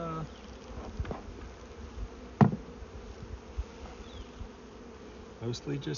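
A honeybee swarm buzzes steadily close by, a soft continuous hum with individual bees flying past, punctuated by brief knocks and handling noises.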